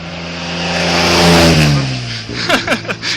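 A car accelerates up a hill, its engine note rising loudly as it passes close by, then fading, followed by a few sharp clicks and knocks.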